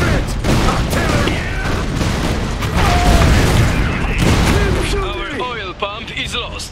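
Artillery fire in the real-time strategy game Iron Harvest: heavy booms and rattling bursts pile into a loud barrage, overlaid with game effects and unit voice chatter.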